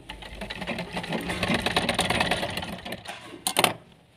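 Sewing machine stitching a cutwork frock, a fast steady whirring run of close mechanical stitching that slows and stops, followed by a couple of brief handling clicks.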